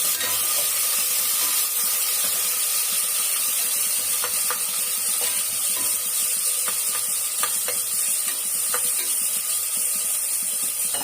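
Onions sauté for biryani in a pan, a constant loud hiss of frying, close up, with scattered light clicks and taps of a spoon against the pan and no one speaking.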